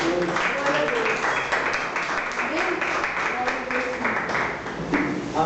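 A church congregation applauds in a dense, continuous patter of clapping that fills the room and holds steady throughout, with voices mixed underneath.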